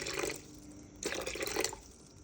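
Water is poured into a bowl for bread dough in two short splashing bursts, close and fairly quiet, with no voices.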